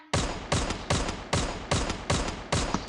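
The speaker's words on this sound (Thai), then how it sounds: "เป็นไงเสียงปืนใหม่อย่างรัว" Rapid bursts of gunfire from a new gun in the video game Free Fire ring out in a steady rhythm, about seven loud, sharp shots in under three seconds, close and punchy with no talking.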